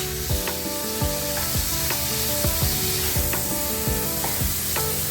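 Frozen mixed vegetables sizzle steadily in a hot pan while a utensil stirs them, scraping in a regular rhythm of strokes, close and loud with no voices.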